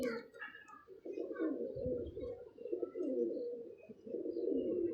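Racing pigeons coo in low, throaty, rolling calls that repeat almost without pause, close by, with faint chirps at the start and no talk over them.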